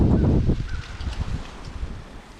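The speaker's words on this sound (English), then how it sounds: "It's real windy." Gusty wind blows through the woods on a turkey hunt, a loud buffeting rush at the start that eases into rough low rumbling and microphone flutter.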